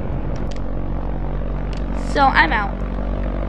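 An airplane engine in a video game drones steadily throughout, with a brief swell near the middle as a person speaks over it.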